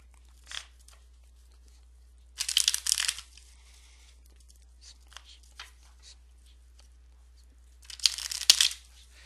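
Tarot cards are shuffled by hand during a live reading, two loud bursts of fluttering, riffling card noise separated by quieter handling sounds.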